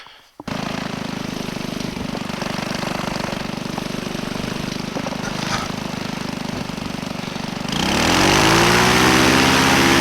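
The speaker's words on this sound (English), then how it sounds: "Engine's still running." A paramotor engine runs at a steady, loud, buzzing drone close by during a UK paramotor race, then near the end the pitch shifts as the engine note changes and rises in level.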